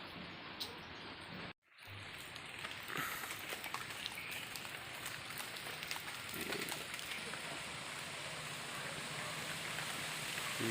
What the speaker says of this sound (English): Hailstorm लग रहा है